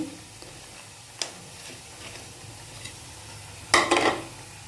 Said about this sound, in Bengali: তার জন্য পকোড়াটা এখন ভাজছি গরম গরম